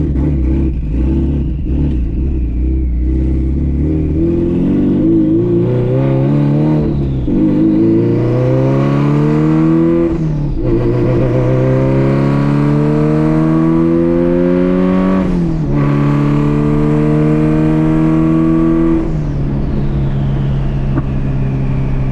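A twin turbo Subaru car accelerates hard on the road, its engine climbing in loud rising sweeps broken by sharp drops at each of several gear shifts, close and sustained with no talk.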